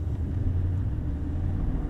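A Mercedes-AMG GT63 Pro on a wet track eases into a gentle roll forwards, its engine a steady, close, low rumble throughout with no talking.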